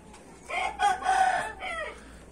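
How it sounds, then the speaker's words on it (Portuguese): A silver-white rooster crows once, loud and close, its call rising and holding before trailing off over a quiet farmyard background. "Um prata branco, né? Demorou um pouco a cantar. Mas uma hora canta, né?"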